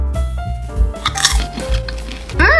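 Oreo-flavoured popcorn with cookie pieces and sugary coating crunched close up, a run of loud crisp bites and chewing crackles with no talking.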